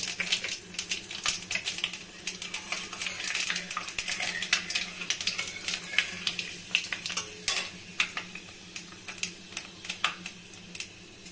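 Five-spice seeds dropped into hot oil, with the gas already off, for an instant green chilli pickle give faint, scattered crackling pops and light sputters in an irregular patter, with no speech.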